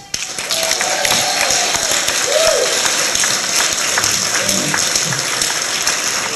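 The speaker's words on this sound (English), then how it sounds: "Please applaud this compact dynamo" Steady crowd applause in a banquet hall, loud and continuous, with scattered whoops and cheers rising over the clapping.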